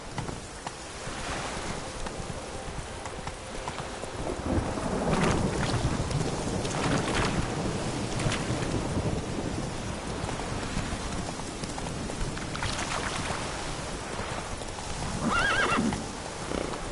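Roach the horse galloping through rain in The Witcher 3: Blood and Wine, with steady clip-clopping hooves and a whinny over a constant wash of rain and distant thunder rumbles, no talking.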